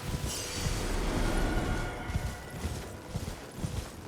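Horse hooves clip-clop in a steady, rapid rhythm as a rider travels on horseback through a video game world, moderately quiet with a soft background hiss and no talk.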